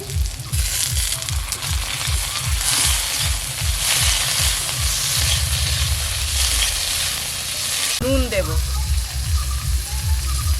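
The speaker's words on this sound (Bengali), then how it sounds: "এবার চিংড়ি মাছটা দিয়ে একের সঙ্গে ভেজে নেব" Prawns frying in a pan with bay leaf and onion, a steady sizzling hiss heard under a continuous low rumbling hum, with a sharp stirring clatter near the end.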